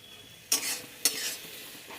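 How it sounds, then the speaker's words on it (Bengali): Spice masala and scrambled egg fry in a wok, heard as two sharp stirring scrapes with a faint sizzle in between against a quiet background. "ডিমও দিয়ে দিয়েছি ভুজি করে, একটু আরেকটু কষিয়ে নেব"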